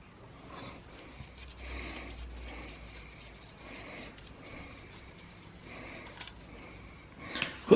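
Ratchet loosening two bolts on the cylinder head of a BMW R1150RT motorcycle engine: quiet, close clicking and rubbing in short bursts, ending with a couple of sharper knocks, with no talk.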